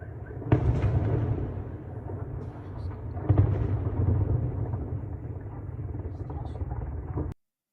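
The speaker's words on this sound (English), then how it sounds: "We hear another explosion." Explosions from drone and missile strikes on Sevastopol port, heard as sustained low rumbling with two sharper distant blasts, one near the start and one midway, before an abrupt cutoff.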